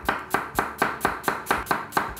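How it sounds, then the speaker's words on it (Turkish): A knife chops an onion on a cutting board in about nine crisp, evenly spaced strikes, close and clear with no talking. "Soğanı doğrayarak başlayalım."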